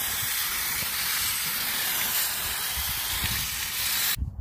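A water hose sprays a steady hissing rinse through a dirty home air conditioner coil, continuous broadband spray noise close by with faint low splashing, cutting off abruptly at the end.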